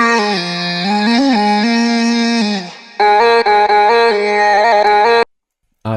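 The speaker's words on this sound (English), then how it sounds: "After that I made the vocal chops in the drop." Vocal chop samples from Splice playing in an electronic track's drop, a loud, bright sequence of pitched, synthetic vocal syllables cut into stepping notes, ending in a brief silence.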